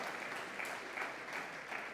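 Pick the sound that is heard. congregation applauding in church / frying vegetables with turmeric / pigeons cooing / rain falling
congregation applauding in church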